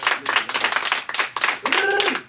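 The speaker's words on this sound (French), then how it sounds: "applaudissez pour moi-même, s'il vous plaît" A theatre audience clapping at an outdoor cultural event in the hills, with bursts of clapping that swell and dip in uneven waves, and a voice briefly rising over the noise near the end.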